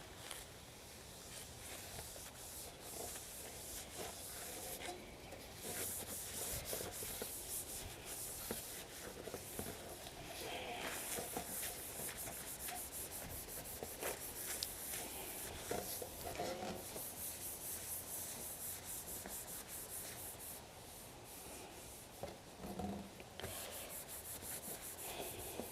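A flowerpot being wiped down with isopropyl alcohol, a continuous soft rubbing and scrubbing that goes on for a long stretch, quiet and close with no talking.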